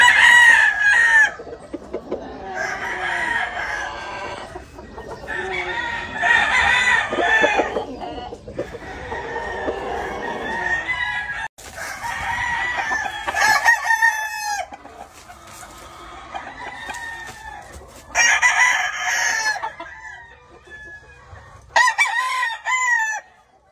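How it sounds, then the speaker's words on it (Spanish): Roosters crow repeatedly and cluck on a California farm, with several loud, close calls in bursts separated by brief quieter gaps. "Si alguien quiere un gallón bueno para gallinas, aquí está"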